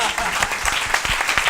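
A comedy tour audience breaks into brief, lively applause, dense clapping with a voice or two mixed in over the short burst.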